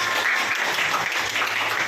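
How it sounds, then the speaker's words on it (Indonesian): Classroom applause for a student, a brief steady patter of many hands clapping close by, filling the moment without talk. "tepuk tangan buat Narendra"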